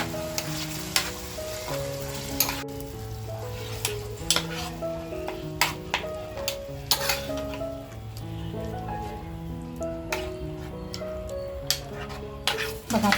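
Minced meat (kheema) sautés in a pan with a continuous crackling sizzle, marked by frequent sharp scrapes and taps of a spoon stirring. A steady tonal hum, like background music, runs underneath.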